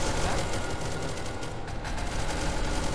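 Rapid automatic gunfire rattles nonstop in a video game, loud and dense across the whole moment, with a voice faintly mixed in under it.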